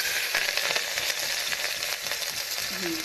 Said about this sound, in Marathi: आता मी टाकते कांदा हिरवी मिरची लसण